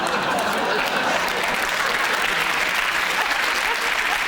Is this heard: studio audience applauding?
yes